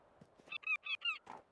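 A cartoonish bird in the cozy indie game Tiny Bookshop honks four times in a quick, loud, evenly spaced series, with a fainter squawk after the last honk.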